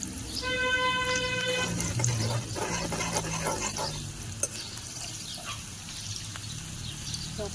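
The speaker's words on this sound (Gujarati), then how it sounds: "મરચાં લસણ મરચાં ગરમ થઈ ગયા છે" Garlic and chili tempering crackles in hot oil with a dense sizzle and stirring scrapes, softening in the second half, under a faint steady tone and background hiss.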